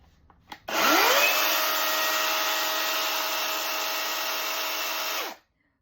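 A Procraft PCA42/2 cordless electric chainsaw spins up with a rising whine, holds a steady high-pitched running drone close by for about four and a half seconds, then winds down and stops.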